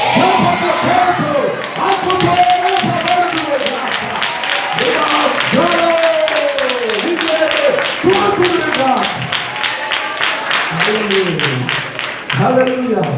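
A church congregation claps and cheers in praise, a loud, dense crowd of shouting voices over a steady patter of rapid hand claps that keeps going throughout.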